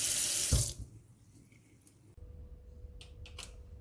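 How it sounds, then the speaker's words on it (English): Hands washed under a running kitchen tap before food preparation: a loud rush of water pours for under a second, then cuts off, leaving faint drips and small clicks in a quiet room. "we're always washing our hands before and after preparing"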